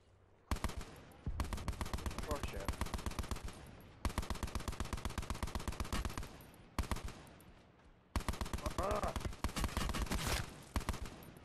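Sustained automatic gunfire from the shooter game Call of Duty Black Ops 4, in Blackout mode, with long rapid bursts separated by brief pauses, loud and close, with no talk over it.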